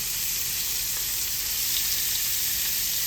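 Shrimp dropped into hot bacon grease crackle and sizzle loudly in a constant, close hiss with no letup and no talking.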